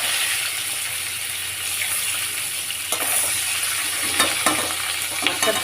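Hilsa fish frying in a pan gives a steady, fairly loud sizzle throughout, with a few sharper crackles and pops near the end and no voices.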